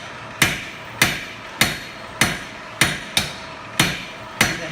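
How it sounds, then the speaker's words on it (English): A blacksmith's hammer strikes hot stock on the flat face of an anvil while drawing out a taper, eight sharp metallic blows in a steady, even rhythm, loud and close with short ringing decay and no talk. "Notice how my hammer is coming down on the same spot and my stock is drawing through it."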